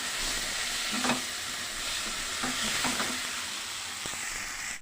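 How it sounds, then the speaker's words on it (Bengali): Fried potatoes are sautéed in a spice masala, giving a constant close sizzle with soft stirring scrapes now and then and no speech. "তো আলুটা দিয়েও আমি খুব সুন্দর করে কষিয়ে নিচ্ছি।"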